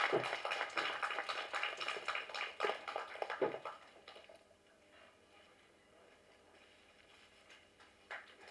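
Audience applause at a film press meet, a crowd clapping steadily for a few seconds before fading out into quiet room tone with a faint stray clap near the end.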